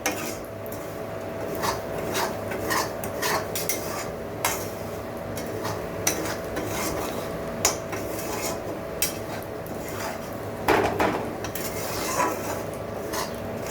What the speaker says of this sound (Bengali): ঘিটা এখন আমি ছাঁকনিতে ছেঁকে নেব।